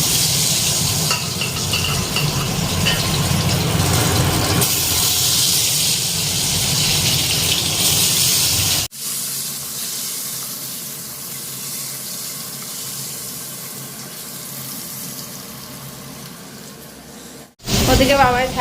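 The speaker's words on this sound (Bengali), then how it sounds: "তেল গরম হয়ে গেছে, ডিমটা ভেজে নিই।" Egg frying in hot oil in a home kitchen, a steady broadband sizzle with stirring and tap-water noise, loud for about nine seconds before dropping to a quieter hiss, with a voice speaking over it.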